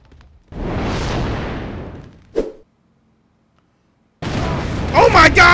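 Gunfire and explosions in a prison video game: a long roaring blast burst, then a sharp bang, a stretch of silence, and a dense renewed barrage with talk over it.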